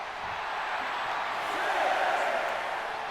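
Wrestling arena crowd roaring and jeering at a cocky wrestler during a live independent show, a steady broad wash of voices that swells slightly midway, with no clear talk over it.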